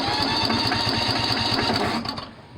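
A rebuilt Kohler engine cranking for a first start, a loud, rapid mechanical chatter with an even pulsing rhythm close by that cuts off near the end.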